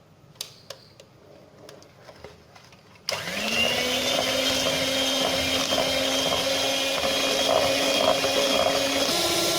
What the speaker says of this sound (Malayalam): ഇനി നമുക്കിതൊന്ന് നന്നായിട്ട് ബീറ്റ് ചെയ്തെടുക്കാം.